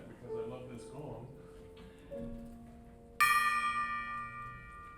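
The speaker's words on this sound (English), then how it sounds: "because I love this gong" A gong struck once at a Saturday service, a bright shimmering metallic ring that swells up suddenly and then sustains and slowly decays after someone speaks quietly in the room.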